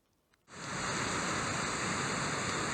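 Water rushes over a terminal weir at the northern end of Crummock Water, a steady loud broadband roar that kicks in abruptly after a brief quiet moment and then holds constant without any voices.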